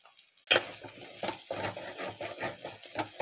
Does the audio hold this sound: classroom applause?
no